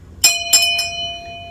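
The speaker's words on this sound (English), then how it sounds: "ring that notification bell" A notification bell sound effect rings three quick chimes in a row, bright and close, with a lingering tone after them and no voices.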